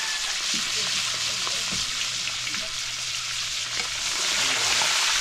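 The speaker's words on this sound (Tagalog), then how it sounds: "Prito na pagi guys." Steady crackling sizzle of stingray frying in hot oil, continuous and fairly loud, with a faint low hum underneath and no talking.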